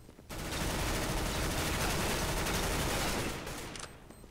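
An MP7 submachine gun fires in Counter-Strike: Global Offensive on the Dust2 map, one loud, unbroken automatic burst lasting about three seconds before cutting off.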